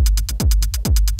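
Programmed closed hi-hat pattern from a simple MIDI techno beat, played back as crisp, evenly spaced ticks in a steady fast rhythm over a low kick-like thump, loud and alone.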